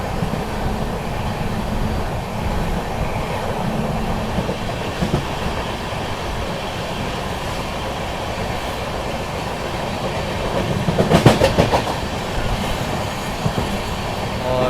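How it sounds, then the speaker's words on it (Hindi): The Prayagraj Express runs alongside on a parallel track as it arrives at a station in fog, a steady rolling rumble with wheel clatter that swells briefly near the end. "पैरेलल में अपने दोस्तों प्रयागराज एक्सप्रेस चल रही है, मतलब उसका भी अराइवल हो रहा है।"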